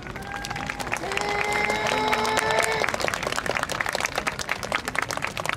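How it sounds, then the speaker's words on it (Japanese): An outdoor festival crowd claps and cheers ahead of a yosakoi dance performance at a temple festival. The dense, lively applause runs under a few shouted voices and sustained musical tones. "どうぞご声援よろしくお願いいたします"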